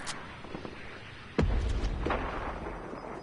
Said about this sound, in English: I'm shooting a rocket